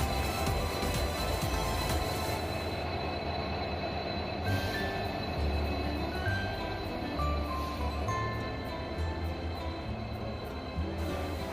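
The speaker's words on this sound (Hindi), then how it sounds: "हमारा ट्रेन फिर से रवाना हो गया नेक्स्ट डेस्टिनेशन के लिए" Train pulling out of New Haflong railway station, a steady rolling rumble with a low clatter of wagons throughout, fairly close and continuous with no talk over it.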